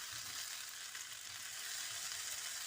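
Chilli garlic sauce egg noodles being stirred in a hot pan or wok, with a steady, continuous close sizzle of frying throughout and a few soft stirring scrapes mixed in.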